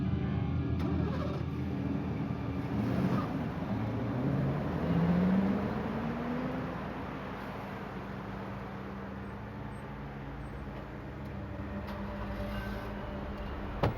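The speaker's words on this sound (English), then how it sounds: "He grabbed his bags and drove off in the victim's car." A Mercury Cougar drives off from a crowded mall parking lot. A steady engine rumble builds into a rising acceleration sweep, then settles into a continuous, fading hum.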